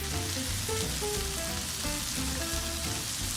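Spicy pork and vegetables stir-fry in a frying pan over medium heat, giving a steady close sizzle with scattered crackles and soft scraping of stirring throughout.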